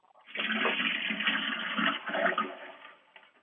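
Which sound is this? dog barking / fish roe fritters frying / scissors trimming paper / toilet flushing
toilet flushing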